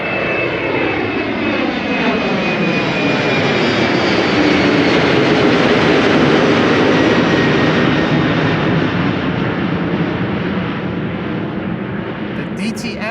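A World2Fly jet airliner departs Amsterdam Schiphol with a loud, sustained engine roar and a whining tone, building to a peak near the middle and easing only slightly toward the end.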